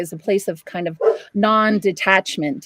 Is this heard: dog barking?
yes